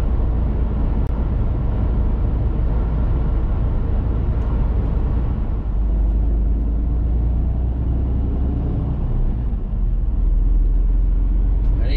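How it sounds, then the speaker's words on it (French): A truck's engine drones steadily from inside the cab while driving toward the A1 motorway in northern France, a continuous loud low rumble with road noise lasting throughout and no talking. "c'est pour ça que vous entendez encore le bruit du camion derrière"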